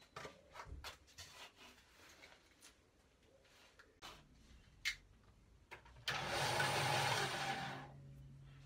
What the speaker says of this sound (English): Okay, let's get this over to the bandsaw.